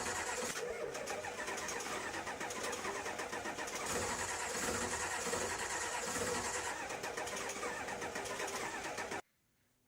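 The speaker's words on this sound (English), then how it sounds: "you saw that the cranking speed's much better now, cranks over much faster" Ford 7.3 IDI diesel turning over on a new starter, a fast, steady cranking churn that runs loud and continuous for about nine seconds before cutting off abruptly.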